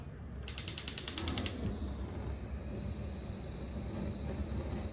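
A gas stove is switched on with a rapid burst of ratcheting igniter clicks lasting about a second, followed by a steady low hiss of the burner against quiet kitchen background.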